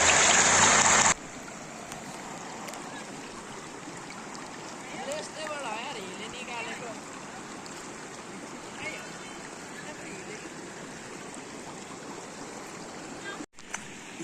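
A river stream flows with a steady, broad wash of water that carries on throughout, with a short louder burst at the start and faint voices now and then.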